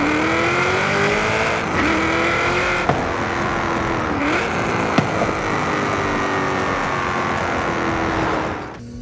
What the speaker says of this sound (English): this is a sport exhaust, which sounds great under acceleration and deceleration